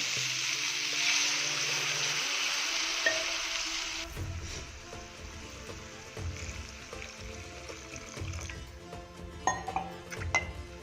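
A bright rushing hiss of water pouring into a pan of cauliflower and pea kurma gives way to sizzling and bubbling, with light clinks of utensils; no talk.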